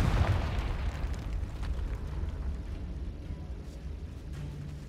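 A Confringo fire spell from Hogwarts Legacy erupts in a heavy, rumbling explosion that opens loud and then trails off into a long, low roar lasting several seconds, with no voices over it.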